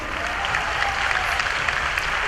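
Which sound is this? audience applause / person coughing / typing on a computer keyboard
audience applause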